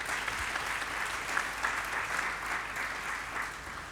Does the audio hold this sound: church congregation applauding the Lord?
yes